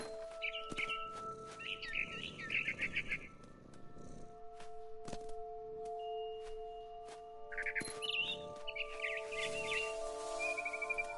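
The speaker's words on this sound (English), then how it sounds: "Then I heard chirping outside my window. It was a barn swallow going back to her nest." A barn swallow chirps outside a window in quick twittering bursts, quiet and somewhat distant, with pauses between bursts over a low steady hum and faint tones.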